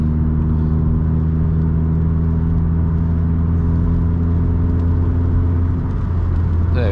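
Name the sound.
car accelerating on a 60 road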